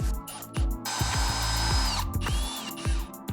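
A power drill drives screws into the bracing behind a window casing, close and loud, with short bursts and a sustained whir of the motor, separated by clicks and knocks.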